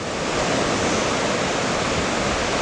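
Ocean surf at Anglet beach on a July morning, a dense, continuous roar of breaking waves with steady loudness and no voices.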